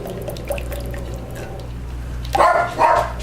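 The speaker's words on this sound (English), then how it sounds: "Sorry about the dogs." Two loud dog barks close by near the end, following a stretch of quiet background noise with faint dripping.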